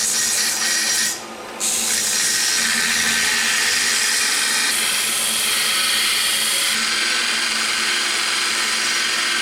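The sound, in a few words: power sanding slag off plasma-cut decorative metal piece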